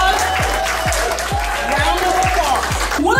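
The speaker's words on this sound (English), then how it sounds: "So a round of applause." Audience at the Today's International Woman 2017 pageant in New Orleans applauds with dense, steady clapping across the whole stretch, carried over regular low thumping music beats.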